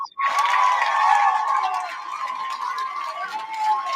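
A crowd cheers and whoops for a Democratic representative, a loud sustained roar of many voices in a large hall that slowly fades, with a single voice's whistle-like tone riding on top.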